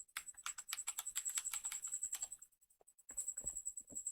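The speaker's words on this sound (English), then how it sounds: "press WinR on your keyboard and then type msconfig" Rapid keystrokes on a PC computer keyboard as Win+R is pressed and msconfig is typed into the Run box, a quick close run of clicks, a brief pause, then a few more taps.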